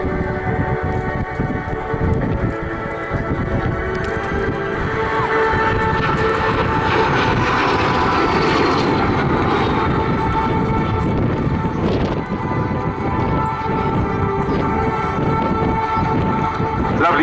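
A Mikoyan-Gurevich MiG-15 jet fighter flies at an airshow, its loud, steady jet roar holding throughout and swelling slightly in the middle as it passes.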